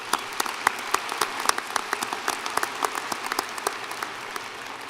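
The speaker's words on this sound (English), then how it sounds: "Please join me in applause and thank Mike for his service." Commencement ceremony audience applauding a departing interim staff member, a steady wash of many hands with sharper individual claps popping through, moderately distant and without speech.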